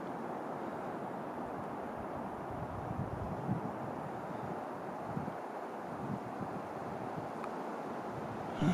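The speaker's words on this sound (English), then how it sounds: "the wind's picking up" Steady wind rushing outdoors as snow starts to fall, a broad continuous roar with gusty low buffeting against the microphone, no voices.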